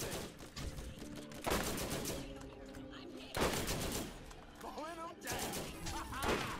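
Rapid turret gunfire in the Borderlands video game during the mind-controlled General Knoxx fight, with dense bursts of shots and other combat noise, and someone talking over it.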